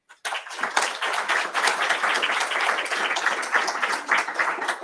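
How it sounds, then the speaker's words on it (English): A conference audience at a social mobility in early careers event claps for a panel: full, dense applause bursts in sharply and holds steady at close, loud level to the end. "Big thank you, round of applause for our panel."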